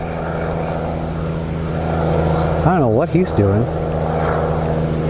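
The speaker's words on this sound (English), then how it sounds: "Helicopter!" A helicopter flies overhead in a garden, a continuous loud rotor and engine drone filling the whole stretch, with people talking over it partway through.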